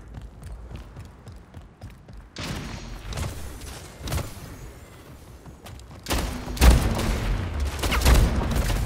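Gunfire in the shooter game Splitgate comes in loud bursts of rapid shots and booming blasts, separated by quieter gaps filled with footsteps and game effects, no talking.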